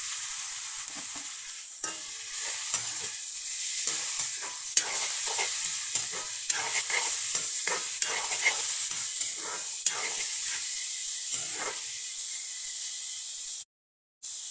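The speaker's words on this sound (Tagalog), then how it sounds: "Ayan, isabay na natin yung ating chicken breast." Chicken breast sautéing with browning aromatics in a home kitchen pan, a continuous close sizzle and hiss broken by repeated scraping stirs, with a brief dropout near the end.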